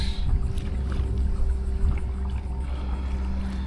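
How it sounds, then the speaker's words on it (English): A small Bixpy K-1 motor on a Native Slayer Propel 10 LTE kayak hums steadily with a low, constant drone, mixed with water and wind noise. No voices are heard. "She's a little noisy. Obviously, we got a little motor on the Kayak."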